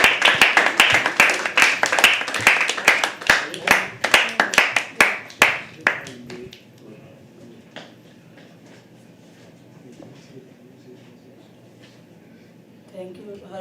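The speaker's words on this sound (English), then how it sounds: "can we have a huge round of applause for our final act of the evening, Sahil?" An audience at a poetry open mic claps in a dense, loud burst of applause that thins out and stops after about six seconds, leaving quiet room tone.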